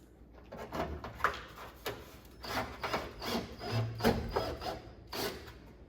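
A self-tapping screw is driven into a drilled hole in a Fiat 131 Abarth tail light panel, a series of close, uneven grinding and creaking bursts with short scraping and rubbing sounds between them.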